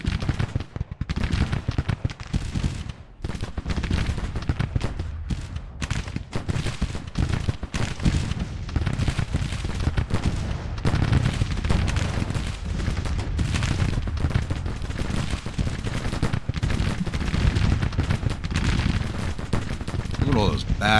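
Continuous musket volleys and artillery fire rumble through a Civil War battle at Fort Arbuckle in the strategy game Grand Tactician, a loud sustained din of overlapping shots and booms with a voice speaking over it.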